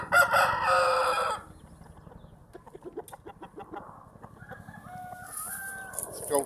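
A game bird cock, a Silverline bred from Prince of Orange stock, crows loudly at the start, then gives a run of close, rhythmic clucks and softer calls, with faint chirps from other birds nearby.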